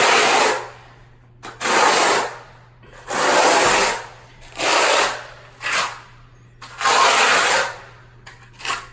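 A steel trowel spreads cement across a concrete basement floor, held at a slight angle, giving repeated broad scraping strokes with short pauses between them, close and fairly loud, with no talking.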